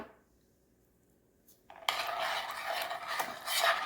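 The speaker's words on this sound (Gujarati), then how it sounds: "મીઠું સરસ મિક્સ કરી લઈએ" A spoon stirs salt into peanuts and water in a bowl, starting after a quiet pause with a sudden burst of close scraping, clinking and sloshing that continues steadily to the end, with no voices.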